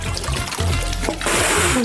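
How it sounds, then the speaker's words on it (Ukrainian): Water pours and splashes briefly, a short rushing gush that swells into a brighter hiss. "Залити цю пожежу може тільки відро води."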